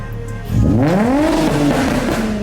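A Nissan S14 with a 1JZ engine swap revs up through a newly fitted resonator exhaust, the engine note sweeping sharply upward and settling into a loud, raspy, close-up drone.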